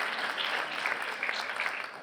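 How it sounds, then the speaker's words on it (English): Audience applause for Liam at a junior chef competition, a dense, steady crowd of clapping hands filling the whole moment at even loudness. "Give Liam a big round of applause,"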